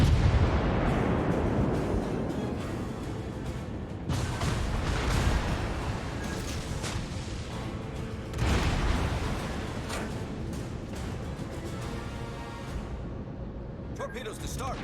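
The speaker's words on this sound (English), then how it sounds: "Some shots coming at us." Naval gunfire from a German tier II destroyer battle in World of Warships, with rumbling booms and bursts from shells coming in, fairly loud and layered under a continuous roar of sea and engine noise.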